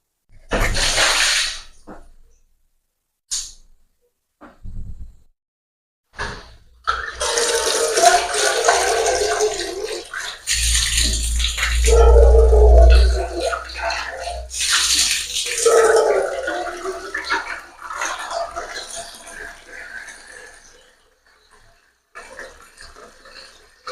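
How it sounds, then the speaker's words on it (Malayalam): Washing water is poured away after N95 masks have been soaked in it, making several loud splashing, gushing bursts that come and go across the clip. "ഇനി നമുക്ക് ഈ വെള്ളം അത് നമുക്ക് കളയാം"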